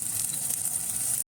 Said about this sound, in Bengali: এই যে পেঁয়াজ আর আলুটা ভাজা ভাজা হয়ে গেছে